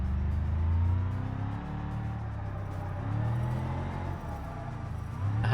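Ford Crown Victoria taxi driven in BeamNG, its engine droning and rising in pitch as it accelerates and shifts, with faint tire noise, heard close and steady throughout.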